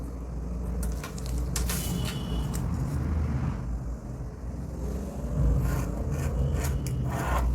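Scissors snip through saree fabric in a quiet room, several crisp cutting strokes in irregular bursts with soft rustling of the cloth between them.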